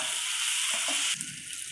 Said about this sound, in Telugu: అల్లం వెల్లుల్లి పేస్ట్ పచ్చివాసన పోయేదాకా వేయించాలి